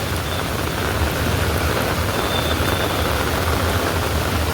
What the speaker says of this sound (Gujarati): અત્યારમાં જો સવારમાં આટલો બધો વરસાદ છે